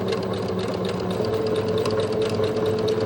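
A sewing machine stitches elastic onto fabric, the elastic stretched over it as it feeds, with a continuous close mechanical whir that holds steady and unbroken throughout.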